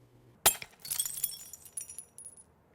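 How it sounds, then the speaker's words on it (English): Drinking glass crashing onto a floor: one sharp, loud impact, then a scatter of tinkling shards that trails off over about two seconds, with no voices. "His glass crashed to the floor."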